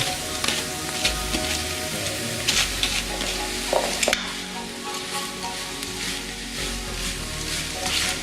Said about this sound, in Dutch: Meng ook de meehoen er doorheen.